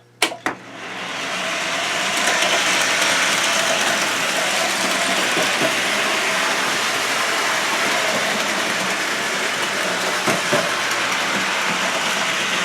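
An O-gauge model train in a public display layout rolls steadily around its track with a continuous mechanical whir and rattle, after a couple of sharp clicks at the start, sounding close and unbroken with no talking.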